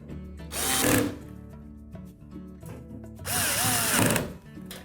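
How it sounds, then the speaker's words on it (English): Power drill driving retaining screws into an LG washer during a spider assembly repair, two loud whirring bursts separated by a quieter pause, close up with no talking. "Reinstall the retaining screws."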